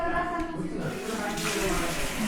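Water poured out at a family birthday gathering, a broad rushing splash that runs on and swells partway through, with people talking nearby.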